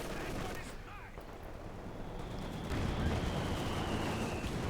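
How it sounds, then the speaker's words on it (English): Mortar fire from a World War II strategy game, Company of Heroes 2, with dull thumps and booming impacts over a rumbling battlefield backdrop. "Mortar firing in Info 2, landing some decent damage in there for Freedom and Democracy."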